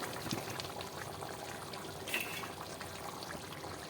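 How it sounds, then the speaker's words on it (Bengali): Hot water is poured into a pan of cooked mutton curry, a soft continuous wash of liquid with a bubbling, sloshing texture and a brief splash partway through. "দিয়ে দিলাম গরম জল"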